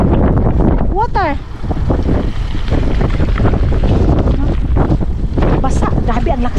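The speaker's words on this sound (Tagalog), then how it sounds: "Basa, grabe ang lakas ng hangin." Strong wind buffets the microphone in a steady roar from start to end, with voices talking over it, outdoors in Finland.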